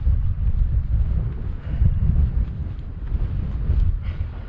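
Strong gusty wind on Dartmoor buffets the microphone in a steady low roar, with rumbling surges and no voices.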